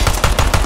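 An M1911A1 pistol firing in the game Ground Branch, a quick string of several sharp close shots in rapid rhythm, loud and without any talking.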